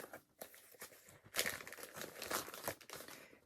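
A plastic bag crinkles and rustles irregularly as items are stuffed into it, close and soft, with bursts of crackling and no speech.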